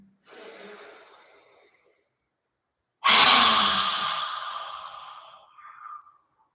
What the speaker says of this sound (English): Push all the breath out of you.